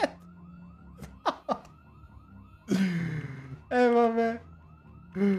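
A wailing alarm siren sounds in a zombie video game, its rising and falling tone repeating in the background, while someone shouts over it in bursts and other short impacts punctuate the scene.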